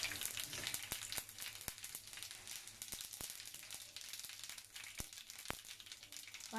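Mustard seeds splutter and pop in hot oil in a pan while a beetroot uppumavu breakfast is cooked, with sharp, irregular crackles over a faint sizzle, quiet and close.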